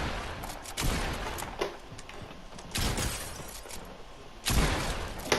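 Submachine gun fire in a video game, heard as several sharp bursts of shots spread across the moment, loud and close, with game noise between them.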